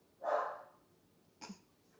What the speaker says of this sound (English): Triggered my dog, apparently.